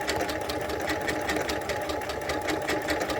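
Sewing machine running steadily while stitching a zigzag or curved quilting line with an applique foot, a close, continuous rapid needle chatter with no pauses.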